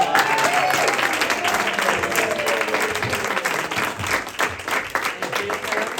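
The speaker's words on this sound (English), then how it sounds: "Let's give them a round of applause." Enthusiastic audience applause follows a children's secret agent showcase performance, dense clapping sustained for several seconds with a few cheers mixed in.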